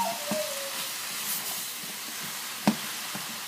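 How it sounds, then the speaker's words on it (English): Vegetables stir-fried in a pan, a steady soft hiss and sizzle with a few sharp clinks and scrapes as they are stirred, close up. "so keep stirring, because you don't want to actually burn the vegetables"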